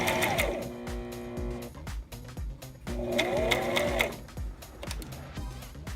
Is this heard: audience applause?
no